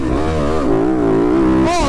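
A Fantic XXF 250 motorcycle engine revs loudly and close by, its pitch wavering up and down for about two seconds and rising sharply near the end.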